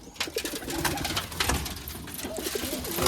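Several pigeons coo close by in soft, repeated throaty calls over a busy background of fluttering and shuffling.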